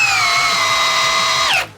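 A Bosch 975 drill drives a large fastener with a loud, steady whine that slows slightly and then drops sharply as the motor stops.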